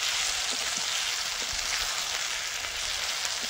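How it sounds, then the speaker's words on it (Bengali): Potatoes fry with onion and garlic in hot oil, a steady, even sizzle that stays close and constant throughout, with no talking. "পেঁয়াজ রসুনটা লাল লাল হয়ে যাওয়া অবধি আলুটা ভাজবো।"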